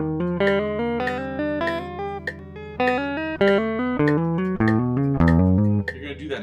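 A guitar plays a fretboard finger exercise with index and middle fingers, a steady run of evenly picked single notes stepping up and down the fretboard, clear and close, with a metronome-like pulse beneath.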